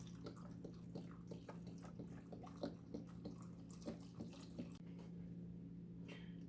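Beef broth and water are poured into a stew being prepared for pressure canning, making a soft, steady liquid stream with faint splashy ticks over a low kitchen hum.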